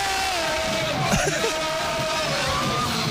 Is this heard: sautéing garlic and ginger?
no